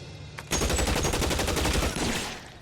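Loud, rapid gunfire in the L.A. Noire video game, a sustained burst of shots that starts abruptly after a brief pause and rattles on for about two seconds before tapering off.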